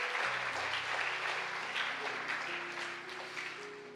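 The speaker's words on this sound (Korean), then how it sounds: "전부 다 박수로 환영해 주시기 바랍니다" A church congregation claps steadily for several seconds during an elder installation thanksgiving service, warm and sustained, while a soft organ-like tone holds underneath.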